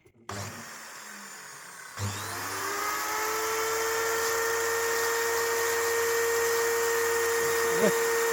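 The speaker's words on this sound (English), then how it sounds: "it'll take a while for the blade to engage with the timber" Electric circular saw spinning up and running steadily as its blade is set against timber, a sustained whining motor tone after a short start, close and continuous.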